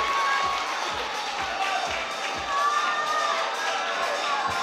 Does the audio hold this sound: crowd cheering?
yes